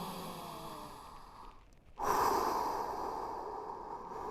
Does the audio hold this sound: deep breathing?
yes